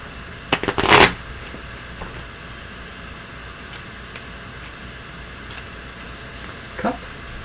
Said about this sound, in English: Go ahead and shuffle and then cut them 3 times.